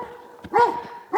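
A dog in a remote, almost abandoned Vepsian village barks a few times, with one short yip, then a pause and a louder bark at the end, fairly close, with no talking.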